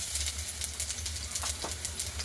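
Garlic being sautéed in hot oil in a kadhai on a gas stove, giving a close, steady sizzle with faint stirring scrapes over a low burner hum.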